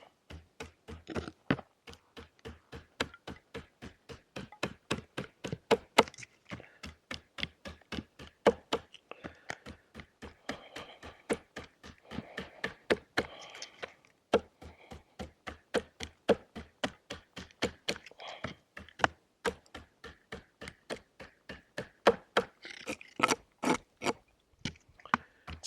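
Brute Force Bladeworks SwissArmyZippo Bushcrafter knife chopping wood, a long steady series of sharp, close, rhythmic chops with brief pauses between runs of strikes.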